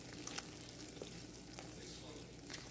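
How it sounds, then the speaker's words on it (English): A spoon stirs cranberry sauce simmering in a pan, giving a faint, steady sizzle and soft scraping under low background noise, with no talking. "once in a while go in here with a spoon. And you want to mix it around."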